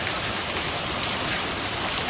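Steady rain pouring on a village outdoors, a dense, even hiss of drops on surfaces, close and unbroken throughout.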